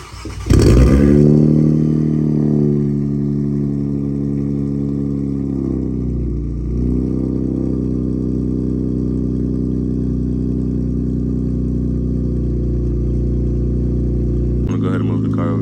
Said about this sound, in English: we're gonna start this with a little cold start